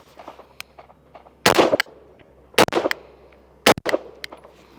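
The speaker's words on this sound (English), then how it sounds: "I'll shoot 2 rounds. Actually, let's shoot the headshot" Three sharp rifle shots fired at a target five yards away, each a loud, close crack with a short echo tail, spaced roughly a second apart, with quieter clicks and handling noise between them.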